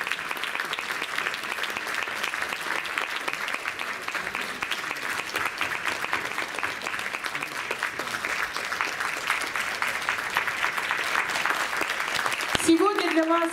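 Warm, sustained audience applause fills a concert hall in Novosibirsk, welcoming a choir at a festive anniversary concert. The clapping holds steady throughout and swells slightly near the end, where a brief voice cuts in.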